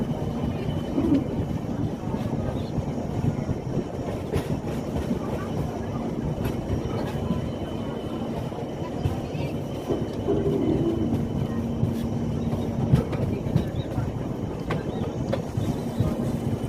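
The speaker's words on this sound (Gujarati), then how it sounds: "ટ્રેન 107 કિલોમીટર પ્રતિ કલાકની સ્પીડે દોડે છે" Passenger train on the Rajkot to Delhi Sarai Rohilla route, running at about 107 km/h toward Palanpur, heard from on board as a steady, even rumble and low hum that holds for the whole stretch without a break.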